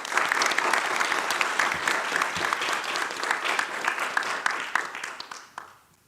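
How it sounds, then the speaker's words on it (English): Audience applause at a climate change challenge global final, dense even clapping from a crowd lasting about six seconds before tapering off quickly at the end. "A big round of applause for Roudaina"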